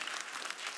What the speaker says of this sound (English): Three claps on it.